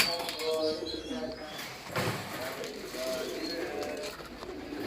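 Pet pigeons cooing steadily in a loft, soft repeated throaty calls overlapping near and far, with someone talking over them.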